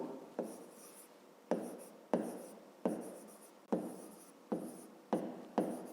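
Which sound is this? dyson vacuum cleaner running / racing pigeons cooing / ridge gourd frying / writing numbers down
writing numbers down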